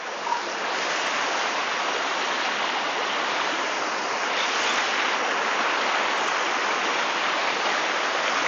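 At the lower tier of Tat Yai waterfall in Phetchabun, murky brown water roars in a loud, unbroken wash close by, steady throughout.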